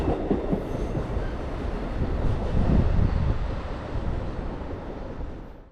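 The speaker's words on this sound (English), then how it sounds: "the train featured 10 cars with an extra cafe car bringing up the rear" A ten-car passenger train with an extra cafe car at the rear rolls past at Merritt 7, Norwalk, a steady loud rumble and rail clatter that holds throughout and fades at the very end.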